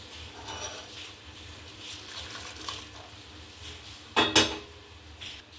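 Boiled water runs and splashes steadily into a metal vessel for biryani rice, with a brief louder gush near the end and faint clinks of kitchenware.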